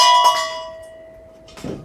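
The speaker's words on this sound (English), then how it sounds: "they do come and they do ring. They are actually working bells." Decorative Christmas bells hung on a rope ring with a bright metallic clang that rings out and slowly decays, followed by a second, softer jingle near the end.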